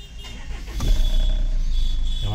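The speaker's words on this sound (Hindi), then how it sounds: "हमारी गाड़ी स्टार्ट हो गई।" A Jaguar XF car engine starting after earlier trouble: a brief cranking burst settles into a steady low idle rumble, close and fairly loud, with a thin whine running above.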